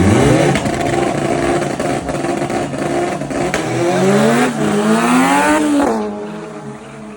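Two turbocharged Honda hatchbacks, an SIR and an EG, launch side by side at a drag strip, engines revving hard through rising gear sweeps. The loud, close roar holds steady before easing off as the cars pull away.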